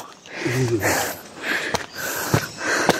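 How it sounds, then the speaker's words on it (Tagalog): Heavy, breathy panting from someone climbing stairs toward a cave, repeated labored inhales and exhales close to the mic with a few sniffs and faint voice fragments. "Hinihingal ako."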